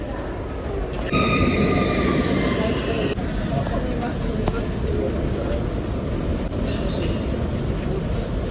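Continuous rumbling roar of a Tokyo metro train arriving at a station, with a rising whine and hiss, steady and loud throughout, heard from close by.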